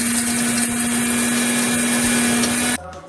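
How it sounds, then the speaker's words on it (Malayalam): A mixer grinder whirs loudly and steadily, grinding roasted Thalassery-style biryani masala spices into powder, then cuts off abruptly near the end, leaving a quiet kitchen. "ഇനി നമുക്കിത് നന്നായിട്ടൊന്ന് പൊടിച്ചെടുക്കാം."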